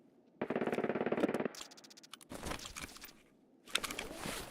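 Rapid automatic gunfire from a high-RPM weapon in a video game, a loud fast-pulsing burst lasting about a second, followed by shorter, quieter bursts and clatter.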